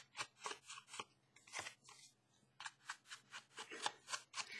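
Paper card edges being distressed by hand, giving a run of short scraping, snipping strokes in a steady rhythm, close and fairly quiet with no talking.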